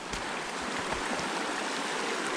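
Steady, close rushing of a river at a trail crossing in the High Uintas, continuous broadband water noise with no voices.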